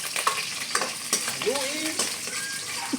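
Garlic frying in a pan, a continuous close sizzle broken by scraping and tapping of a spoon against the metal, with a faint voice murmuring in the background.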